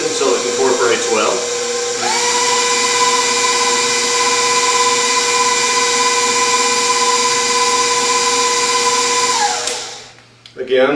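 An electric stand mixer working chocolate chip walnut cookie dough as flour is added, starting with brief talk before the motor steps up to a loud, steady whine that holds evenly, then winds down and stops near the end.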